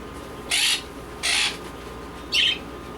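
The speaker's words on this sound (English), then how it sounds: "as usual in all my videos, you are going to hear birds" Three separate high-pitched bird calls, evenly spaced over a faint steady background hum; the last call is slightly lower and shorter.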